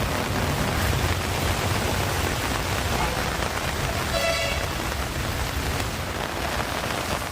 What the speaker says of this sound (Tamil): கனமழை பெய்தது.